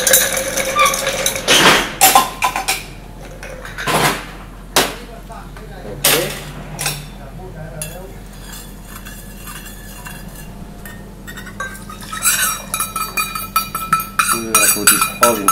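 At a cocktail bar, ice rattles and clinks sharply inside a glass as it is chilled, with repeated bright strikes and swirling jingles, while a bartender talks in between.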